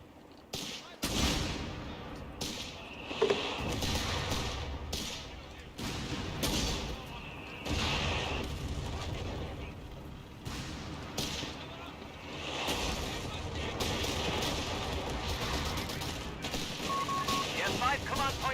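Artillery barrage in the World War II strategy game Company of Heroes 3, a rolling run of repeated booming explosions and gunfire under steady talk from a player.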